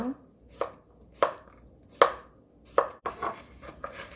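A knife slices cucumber on a cutting board, six or seven crisp, evenly spaced chops sounding close and clear, with a quicker cluster of cuts at the end and no voices.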